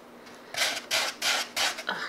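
Thick dry floral foam being handled and squeezed close up, four crisp crunchy rustles in an even rhythm, each lasting about a quarter second, over a quiet background.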